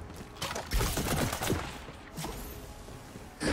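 Rapid gunfire in Tiny Tina's Wonderlands, bursts of sharp overlapping shots and automatic fire arriving in clusters, loud and close with brief pauses between volleys.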